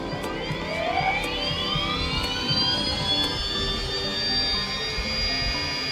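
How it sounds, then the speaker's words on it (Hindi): A battery-operated Xhorse XP007 Dolphin key cutting machine runs at speed mode 1, about 8000 RPM, with a loud, close, high-pitched motor whine that rises as it spins up and then holds steady, with no talk. "ये स्पीड मोड 1 है जो है वो अपना 8000 RPM पे चलता है"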